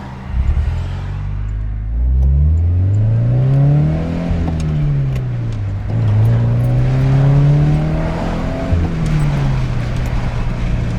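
A Toyota GT86 with an aftermarket valved exhaust, valves open, drones and revs continuously, its deep exhaust note rising and falling as it drives, loud and close with some wind noise.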